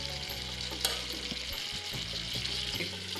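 Water poured into a pan of sweet pumpkin frying for a vegetarian chhakka, a bright hiss of sizzling with a few stirring scrapes and one sharp clink, close and steady.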